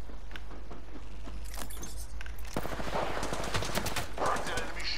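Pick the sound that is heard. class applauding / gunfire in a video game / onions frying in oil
gunfire in a video game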